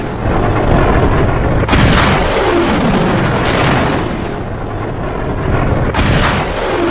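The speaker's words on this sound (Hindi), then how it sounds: "दूसरी तरफ खबर यह है कि एक मिसाइल ने कैसे ईरान के एक शिप को डुबो दिया है।" A missile strikes a ship with loud booming blasts, sharp crack-like impacts followed by a heavy rolling roar that rises again near the end, with no talking.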